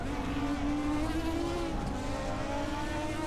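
An over-revved, overheating car engine in the Hot Wheels video game whines at a high steady pitch that rises slightly and dips, loud and continuous with no talk.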